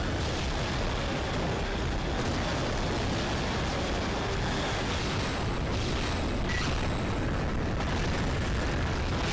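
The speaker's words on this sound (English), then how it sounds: "Quite a lot of explosions going on." Dense, continuous booms and blasts fill the battlefield of the video game Global Defence Force, a loud wash of overlapping explosions with no talking.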